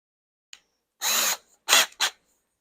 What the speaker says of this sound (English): I'm going to chuck it back up in the drill.